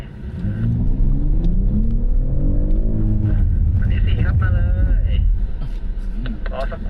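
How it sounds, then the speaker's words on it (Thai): A BMW X3 20d or M50 surges under hard acceleration on a dirt track, the engine note climbing and rumbling up close, then easing off as it brakes, with people talking over it. "ลองเร่งแล้วลองเบรกครับ"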